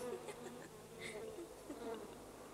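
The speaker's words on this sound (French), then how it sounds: "Ça bourdonne, ça ronfle, ça vole dans tous les sens." Cartoon bees buzzing, a faint layered drone of several insect wings humming and wavering close by, with a soft murmur of background sound underneath.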